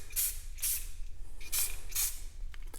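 Spray paint hisses from a can onto canvas in about five short bursts with brief gaps between them, close by and moderately loud, and no voice.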